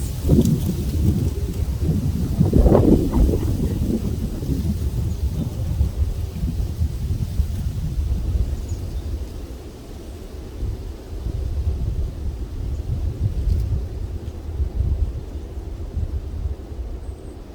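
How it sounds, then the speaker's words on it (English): Strong outdoor wind gusts buffet the microphone during a spring beehive inspection, a loud continuous low rumble that swells and eases over the whole stretch with no talk. "So if I suddenly feel wind coming, I'm just going to go back inside the box for now. Wait for this one to pass."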